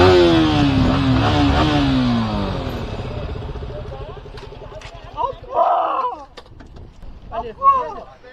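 A group of motorcycles on a ride drones loudly at first, engines winding down as the riders pull up and stop; afterwards scattered voices talk over a quieter idle.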